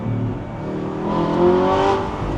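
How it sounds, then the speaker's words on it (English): A tuned Audi R8 with a gated manual gearbox and loud exhaust revs up in a steady rising howl, climbing to a high-pitched scream with no rasp, heard close from inside the car. "Like up top, it just screams and there's like no rasp. It just sounds like full-on motorsport."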